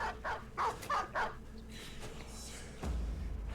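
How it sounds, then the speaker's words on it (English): Four war dogs in the Battle Brothers video game, heard as a run of short barks under faint game noise, followed by a low rumbling thud. "4 war dogs that they're dropping on me."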